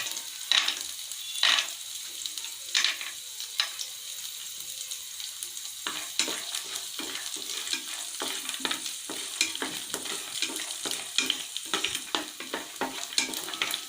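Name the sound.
peanuts frying in oil on medium flame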